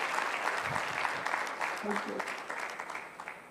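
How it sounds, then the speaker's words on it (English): Audience applause after a presentation at a health research and policy symposium, a steady patter of clapping through the clip with a voice briefly speaking over it. "Can we give her a big round of applause?"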